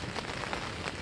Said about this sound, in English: The fact it's raining doesn't help as well